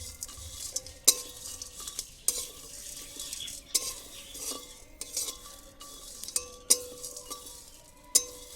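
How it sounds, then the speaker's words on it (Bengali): Whole spices for a mutton biryani masala dry-roast in a kadai wok while a metal spatula stirs them, giving irregular close scrapes and sharp clinks over a soft, steady sizzle, with no talking. "এবার এগুলোকে আমি একটু হালকা ভেজে নেব।"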